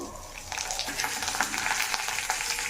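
Cumin seeds and dried red chillies fry in oil for a Bangalore brinjal (chayote) chutney, giving a steady, close sizzle and crackle that swells after a brief quieter start and carries on with no talk.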